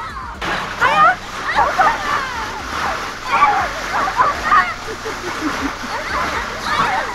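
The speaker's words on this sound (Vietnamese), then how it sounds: "Một cái vòi nước to có áp suất cực lớn," In a film, a large hose at very high pressure blasts water toward a crowd of women prisoners, giving a constant splashing rush with sloshing bursts, while shrieks and voices carry over it.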